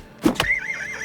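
A horse in the video game Oblivion gives a short, loud whinny that rises and then wavers, opening with a couple of sharp hoof or snort accents.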